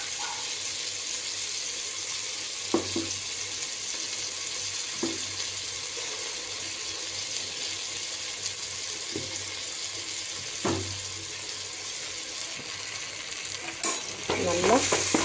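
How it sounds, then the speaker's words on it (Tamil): Tomatoes with ginger-garlic paste sauté in a pan for chicken biryani, a constant sizzling hiss broken by occasional sharp scrapes of a spatula against the pan, with no talking. "நல்லா வதக்கிட்டு நம்ம அரைச்சி வச்சுருக்க இஞ்சி பூண்டெல்லாம் இதில் ஆட் பண்ணிக்கலாம்."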